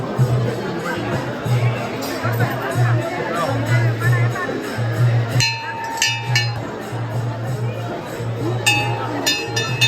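A dense crowd at Mahakaleshwar temple in Ujjain murmurs and chatters, with a low droning hum and occasional bright metallic clinks and rings rising over the babble.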